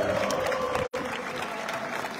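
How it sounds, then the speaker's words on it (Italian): Audience at a football club presentation applauds in memory of the late vice president, steady clapping from a gathered crowd with a brief dropout partway through. "Ricordiamolo tutti con un applauso"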